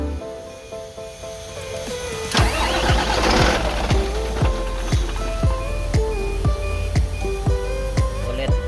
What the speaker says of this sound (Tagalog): pakinggan nyo guys yung andar ng makina